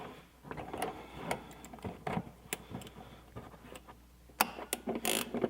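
Vice grips clamping onto a shock absorber stud on a 4wd Chevy V8 Colorado, giving close, intermittent metallic clicks and short ratcheting snaps with brief louder bursts near the end.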